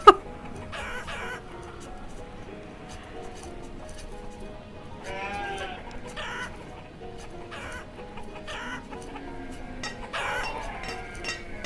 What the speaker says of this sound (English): You're just listening to the chickens.